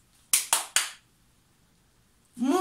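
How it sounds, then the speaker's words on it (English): Three sharp, close hand claps ring out in quick succession during a children's body-parts song, followed by silence and then a short burst of sound at the end. "Clap your hands."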